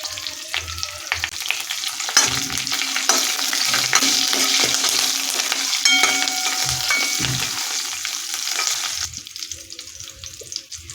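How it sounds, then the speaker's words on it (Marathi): Curry leaves sautéing in a pan for a Maharashtrian meal, a loud, steady sizzle and crackle with spoon scrapes and stirring clatter, quieting toward the end. "कढीपत्ता आता हे थोडंसं दोन मिनिट परतून घ्यायचं आहे"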